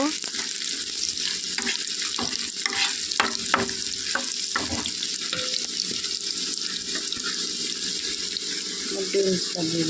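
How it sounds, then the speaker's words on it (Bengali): Chopped carrots fry lightly in a steel pan with other vegetables for homemade Maggi, a steady close sizzle broken by scraping stirs and occasional soft clinks. "গাজরটা দিয়ে দিলাম একটার হাফ গাজর দিয়ে দিয়েছি গাজরটা হালকা ভেজে নিব"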